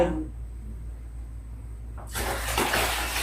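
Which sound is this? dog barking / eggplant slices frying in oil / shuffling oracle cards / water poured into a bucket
water poured into a bucket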